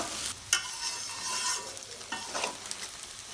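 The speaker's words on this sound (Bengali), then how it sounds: "এগুলোকে একটু ভালো করে ভেজে নেব" Beef tripe frying in a pan with onions, turmeric and salt, a close, continuous sizzle with quick scraping stirs in short bursts, no voices.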